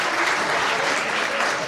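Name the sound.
audience clapping hands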